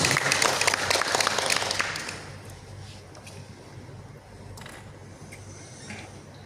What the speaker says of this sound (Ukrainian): Будь ласка, ваші оплески.